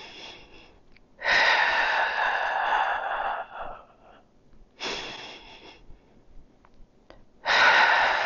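Deep, loud breaths come in three long, heavy exhalations with quieter inhales and pauses between them, close to the microphone, during a Pilates workout.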